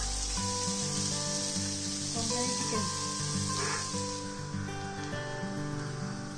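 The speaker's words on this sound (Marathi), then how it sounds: "ताका आमी फ्राय करून घेवचें आसा ब्राऊन जायसरी" Chopped onions frying in oil in a pan for a Konkani chicken curry, giving a steady close sizzle and hiss that runs throughout, with a sustained tonal hum layered over it.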